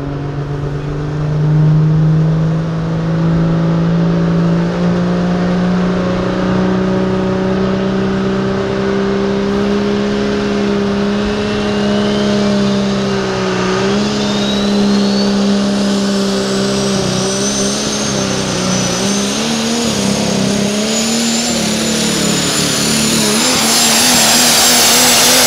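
A pulling tractor's engine roars continuously at a truck and tractor pull at the Tuscarawas County Fair in Dover, Ohio: loud, sustained and close, pitch wavering and climbing toward the end as the machine strains down the track.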